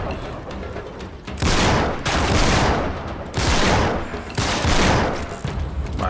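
Bursts of heavy gunfire from a firefight in the video game Uncharted 3, several loud sustained volleys of rapid shots one after another, close and dense, with no talk.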